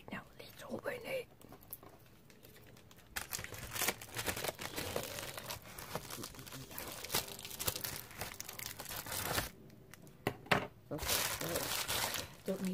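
A Hasbro Beyblade toy is unboxed, its packaging crinkling, tearing and crumpling in close, irregular bursts, with soft whispered talk in between.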